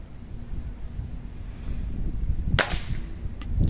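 A single sharp gunshot cracks out near the end, fired at a Coke bottle target outdoors over steady wind rumble. It is loud and close, with no talking.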